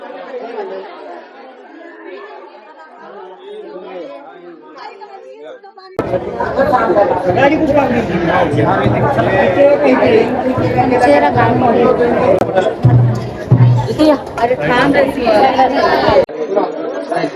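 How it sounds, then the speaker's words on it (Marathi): Pilgrims crowd the Khandoba temple at Jejuri, a dense babble of many voices and chatter that starts softer, then swells into a loud, close hubbub with shouts and movement. "गर्दी बघा."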